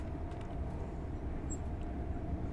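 LNER Azuma train passing the other way in Train Sim World 5, heard as a steady low rumble and rolling rail noise, fairly muted and even, with no distinct horn or clatter.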